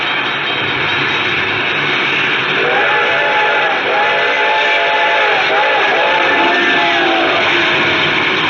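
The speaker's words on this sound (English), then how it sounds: "The train was coming closer. I could hear its bell ringing and the cry of its whistle." A train draws near in a radio drama, sounding its whistle as a steady wide roar fills the scene throughout, with a wavering whistle tone that rises from about three seconds in and holds for several seconds.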